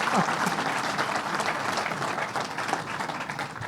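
A crowd applauds the commissioner at an announcement event at Belmont Park race track, dense steady clapping filling the whole stretch with a little voice mixed in.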